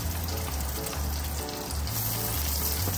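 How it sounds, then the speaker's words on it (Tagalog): Garlic fries in cooking oil in a pan as sautéing begins for a Filipino ground-meat omelette, giving a steady, close sizzle with a low pulsing hum beneath it. "Maglagay na tayo ng mantika. Lagay na natin yung bawang."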